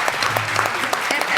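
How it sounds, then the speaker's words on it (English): A short burst of audience applause for a panel at a stigma-themed event, steady clapping from a seated crowd at moderate volume. "So one last big round of applause for our fabulous panel."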